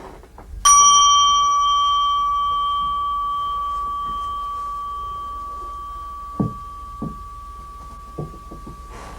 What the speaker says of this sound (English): I will ring the gong once to indicate we're beginning